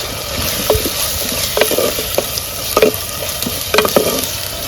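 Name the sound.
chopped onions frying in hot oil for chicken curry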